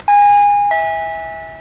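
A Costar T300 doorbell chime sounds a clear two-tone ding-dong, a bright first note and then a lower second note that rings out and slowly fades, loud and alone.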